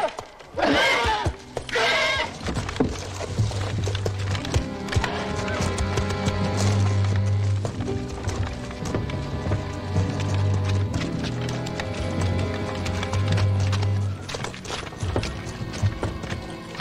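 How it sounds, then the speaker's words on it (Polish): Horse hooves clip-clop steadily at a walking pace in a 1983 Polish horror film, with a sustained orchestral music bed running beneath the hoofbeats. "Kacper, przytrzymaj konia."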